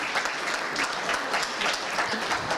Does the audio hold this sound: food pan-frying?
no